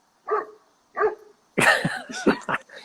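A dog barks close by: two short, separate barks, then a louder, rougher burst of several barks in quick succession.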